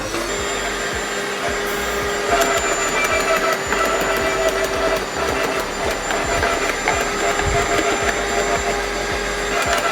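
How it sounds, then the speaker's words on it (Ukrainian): A loud, steady mechanical grinding and whirring runs throughout, with rapid crunching and clattering as thin branches are chewed up by a Dnipro-M GSQ-45 garden shredder. "Що ж, і починаємо подрібнювати."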